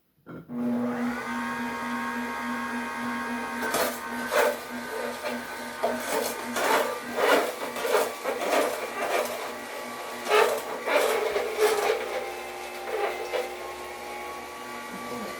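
Electric juicer machine grinding celery and a red apple: a steady motor hum starts abruptly and runs throughout, with repeated crunching bursts as produce is pushed in, close and fairly loud, with a voice speaking over it.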